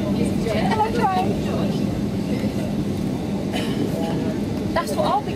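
Rumbling train passes with a steady low roar and occasional metallic squeals, while people talk nearby.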